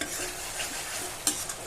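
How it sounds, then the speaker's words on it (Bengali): Spice paste frying in oil in a pan for a vegetarian fish-style curry, a dense continuous sizzle close up, with a sharp utensil scrape near the end and no talking. "দেখুন মশলাটা কষতে থাকছে।"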